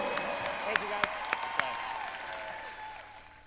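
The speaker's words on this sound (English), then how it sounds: "you guys give them a big round of applause for being in here tonight" Spectators applaud in an arena at the 2015 USA Gymnastics Championships. A few sharp claps stand out early and then fade into a low crowd murmur with a background tone.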